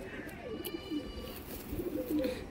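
Pet pigeons coo softly while held in the hand, a few low throaty murmurs rising and falling at close range over faint background noise, with no talking.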